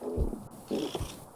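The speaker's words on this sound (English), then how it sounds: "Sorry if you can hear her purring." Mimi, a pet cat, purrs loudly and close, in two rumbling pulses with a soft breathy rhythm and no voices.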